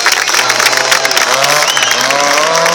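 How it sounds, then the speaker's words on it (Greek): A crowd at a drift show in Kozani claps and cheers loudly and continuously, with an engine droning underneath and a voice over a PA mixed in. "Δώστε του το πιο θερμό σας χειροκρότημα."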